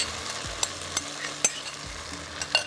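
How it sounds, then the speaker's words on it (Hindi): Minced meat stirred into a pan of tomato and onion paste, giving a low frying sizzle with a few sharp scraping clicks of a spoon against the pan, close and steady with no talking. "इसके बाद ये कीमा जाएगा इसके अंदर।"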